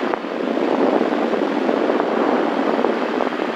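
A Cessna 172 light airplane's engine drones steadily and loudly through a takeoff run, a constant broadband roar with no pauses and no voices over it.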